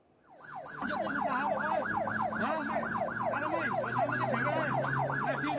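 A loud ambulance siren wails in a fast, continuous up-and-down sweep close by, carrying a critically injured road accident patient, with an engine hum underneath and no talk.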